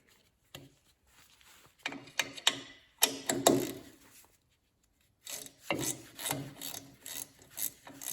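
A bolt is threaded through a tab into the brake backing plate of a VW Beetle's rear drum brake, producing close, quiet bursts of metallic rubbing and ratcheting with short pauses between them.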